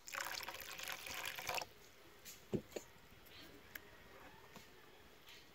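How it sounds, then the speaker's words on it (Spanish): A little water is poured into a pan while cooking chicken wings in tomato sauce, a brief close splashing pour followed by quiet with a few faint drips and clinks. "Le voy a poner un poquito de agua."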